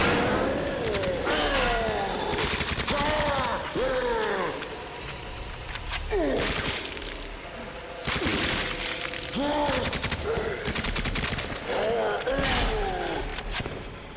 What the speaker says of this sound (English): just shoot the eye with your submachine gun